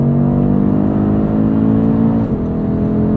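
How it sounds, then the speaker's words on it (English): 2022 Audi RS3 Sportback's five-cylinder engine humming steadily while cruising on a road trip, a loud, close, even drone with a slight dip partway through. "That five-cylinder engine just hums."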